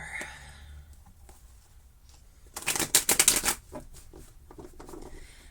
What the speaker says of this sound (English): So we're going to shuffle till it feels good.